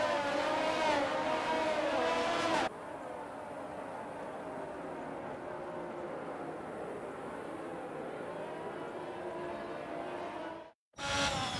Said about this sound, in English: As the cars make their way back to the starting grid to form up and get ready for lights out